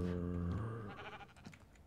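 A Minecraft sheep bleats once, a loud, wavering, harmonic bleat that trails off, followed by faint clicks and soft game noises.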